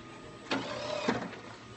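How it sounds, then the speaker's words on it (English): An automated coffee dryer fitted with vibrators runs with a steady mechanical hum and rattle, two sharper clunks and a rising whine as it starts vibrating, heard close and alone. "Once we start it, automatically it's vibrating."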